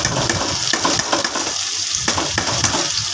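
Chopped onions frying in a pan, a steady close sizzle with intermittent scraping and stirring clatters, no talking.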